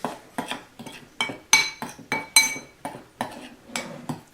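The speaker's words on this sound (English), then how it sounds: "I'm just going to mix everything right here." A utensil stirs dry gluten-free bread ingredients for microwave bread in a bowl, knocking against the sides in about a dozen sharp, rhythmic clinks and scrapes, close and clear with no talking.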